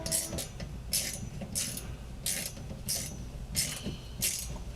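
Screws being threaded by hand into two short standoffs while fitting a Molle panel to a Nissan Frontier, giving a soft run of small metallic ticks and clicks with regular bright rasping bursts, close and fairly quiet.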